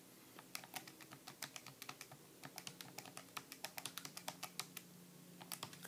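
Numbers are tapped out on a computer keyboard in a quick, uneven run of crisp, close keystrokes, with a few short pauses between bursts.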